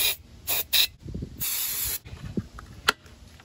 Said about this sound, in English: let's pop off the air filter cover and spray some starting fluid into here and see if it'll start